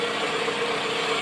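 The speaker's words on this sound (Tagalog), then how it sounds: "So ito na yung makina na bagong gawa, bagong overall." A freshly overhauled Toyota Camry 1AZ engine idles with a steady, even hum, continuous and fairly loud, with no voices over it.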